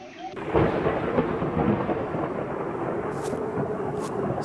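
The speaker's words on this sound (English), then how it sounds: "Suddenly day turned into a night storm." Thunderstorm in the video game Mystic Forest: a loud, rolling thunder rumble breaks in after a moment and continues over steady rain, with no speech.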